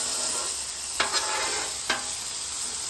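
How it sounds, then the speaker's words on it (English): Peanut oil hits a hot griddle and sizzles in a steady, loud hiss, broken by two brief sharper crackles, with no voices. "Peanut oil down, get warm."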